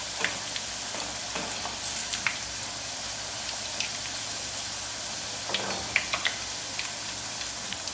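Potato wafers fry in hot oil over a medium flame, giving a steady close sizzle with scattered crackles and light stirring clicks.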